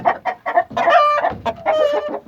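An Aseel (Indian) rooster clucks and calls loudly and close by in a quick series of sharp, nasal bursts. The calls rise into a short crow-like cry near the end.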